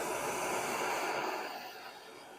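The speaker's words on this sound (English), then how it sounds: "start heating it all up with the MAP gas" A MAP gas torch roars steadily while heating a cast iron piece before welding, a continuous close, broadband hiss that eases slightly toward the end.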